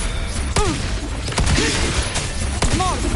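Gunfire and blasts in the Wuthering Waves action game, with a few sharp bursts and booms standing out over busy combat noise and brief voiced character lines.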